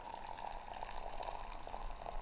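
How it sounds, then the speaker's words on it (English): Hot water poured from high above into a tea sock of Thai tea leaves makes a steady, soft splashing stream that runs unbroken throughout with no voices. "Let it bloom for about 30 seconds and then we pour the water high"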